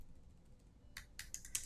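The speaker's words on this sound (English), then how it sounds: "I'm typing fast for you guys" Quick keystrokes clatter on a computer keyboard, a short burst of close, crisp clicks that follows a quiet pause with no voice.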